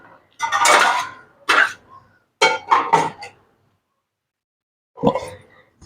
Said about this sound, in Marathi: आता मी ह्याच्यावर झाकण ठेवते.